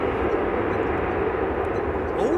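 A Finnair Airbus A330 jet airliner at an airport runway gives a steady engine rumble and roar that is fairly loud and constant, with a faint whining tone sweeping near the end and people talking in the background.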